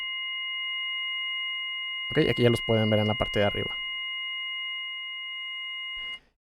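A steady pure sine tone with added distortion harmonics hums continuously for about six seconds at constant level, with someone speaking Spanish over it partway through before the tone cuts off.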